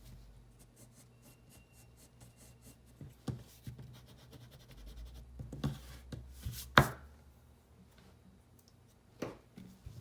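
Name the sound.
erasing part of pencil drawing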